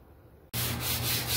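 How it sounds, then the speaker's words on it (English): Wood is sanded by hand in a steady, close, scratchy rubbing that starts abruptly after a quiet moment and continues in rhythmic strokes. "So we're going to sand this evening a little bit"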